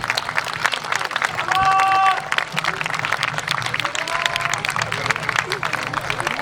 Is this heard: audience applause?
yes